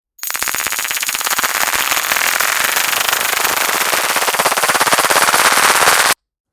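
Sustained-fire layer of the Prometheus Lens laser gun from Destiny 2: a loud, continuous rapid buzzing stream of pulses running steadily for about six seconds, bright and harsh, alone without any voices.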